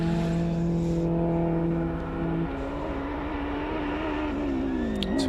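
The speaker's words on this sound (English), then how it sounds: "Oh, we got the lovely Honda." A Honda race car at the Simola Hillclimb drones steadily at a moderate distance, its engine note holding and then bending upward as it climbs.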